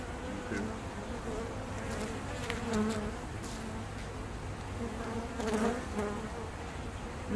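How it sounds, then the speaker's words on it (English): Worker honeybees buzz steadily inside an opened hive, a dense close drone with brief swells as individual bees pass near, continuous for the whole stretch with no talking. "it's all worker bees on this side"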